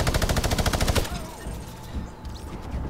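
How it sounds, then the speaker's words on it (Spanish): Rapid automatic gunfire from the video game Fortnite rattles in a fast, even burst for about a second, then gives way to scattered softer shots and game ambience. "creo que aquí hay alguien porque escucho los disparos cerca"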